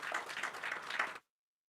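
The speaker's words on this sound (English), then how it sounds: "So I request everyone to give them a big round of applause." A seminar audience greets a panel with a short burst of applause, a fairly close, steady clatter of clapping hands that stops abruptly after about a second into silence.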